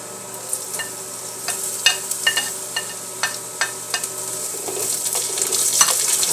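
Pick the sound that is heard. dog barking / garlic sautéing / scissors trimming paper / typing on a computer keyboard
garlic sautéing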